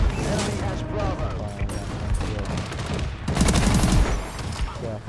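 S-12 Whirlwind shotgun fire in Call of Duty Advanced Warfare multiplayer: rapid, punchy gunshot bursts amid other battlefield gunfire, with a voice talking over much of it.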